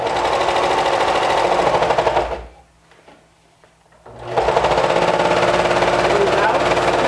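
A sewing machine runs in fast, even bursts while stitching the seam of a peg-leg trouser leg, loud and close, stopping for about two seconds before whirring on again.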